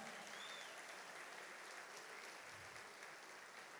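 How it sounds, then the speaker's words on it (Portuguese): Congregation applauding during a church Easter service, a steady, dense wash of many hands clapping that holds evenly for the whole stretch, fairly distant and soft. "Vamos aplaudir o Senhor Jesus."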